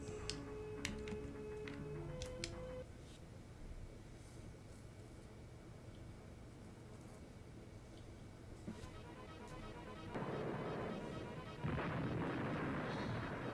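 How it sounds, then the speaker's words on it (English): Bombing a battleship in the SNES game Super Conflict: chiptune blips give way to a rumbling bombardment, with heavier crashing booms swelling near the end, at moderate loudness and without talk. "I want to bomb their battleship, because they can't replace that."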